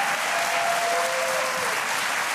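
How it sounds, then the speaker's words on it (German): Studio audience at a German TV cooking show bursts into dense, sustained applause, a steady wash of many hands clapping alone with no talk over it. "das ist ein Applaus wert"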